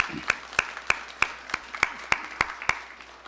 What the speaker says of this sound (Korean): 우리 새 가족에서 한번 다시 한 박수 한번 보내드리겠습니다